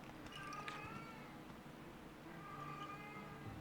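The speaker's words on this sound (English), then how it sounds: "if you can hear meowing in the background" A hungry cat meows twice in the background, quiet and distant, with a drawn-out cry early and another after a pause, under a steady low hum.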